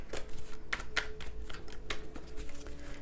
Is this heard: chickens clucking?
no